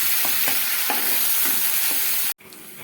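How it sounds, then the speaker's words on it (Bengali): Onions frying in a little oil over a medium-low flame, giving a steady close hiss with soft stirring scrapes, cutting off abruptly near the end. "মিডিয়াম টু লো ফ্লেমে রেখে পেঁয়াজটাকে আমি ভালোভাবে ভেজে নেবো"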